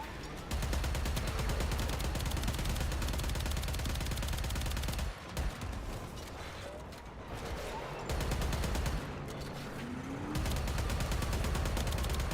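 Automatic turret fire aimed at the player in Warframe, a steady loud stream of rapid shots running nearly throughout, with brief gaps where the barrage drops out before resuming.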